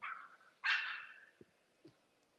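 A dog at an outdoor community meeting gives two short barks, the second louder, followed by a couple of faint thumps in an otherwise quiet space.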